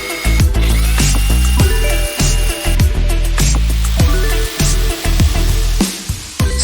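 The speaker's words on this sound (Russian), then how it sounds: "Сверлим отверстие." A power drill bores a hole into a wall for plugs while a washing-machine stand is being installed, running loud and close in repeated bursts with short pauses between them.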